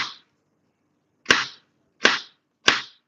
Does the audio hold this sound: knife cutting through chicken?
yes